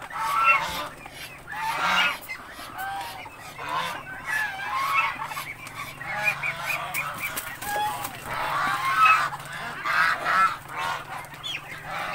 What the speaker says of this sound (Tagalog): Nagpapakain sila ng ducks.